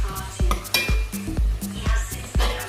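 Locust beans fry in a pot for Yoruba efo riro while a spoon stirs and scrapes, making repeated clinks and knocks against the metal over a soft sizzle, close up with no talk.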